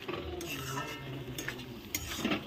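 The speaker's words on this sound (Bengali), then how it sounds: "সব কিছু দিয়ে আমি একটু ভালো করে নেড়ে দিই।" A spoon stirs mocha ghonto, a banana-flower dish with salt, in a cooking pot, giving soft scraping and clinking strokes under a low steady kitchen hum.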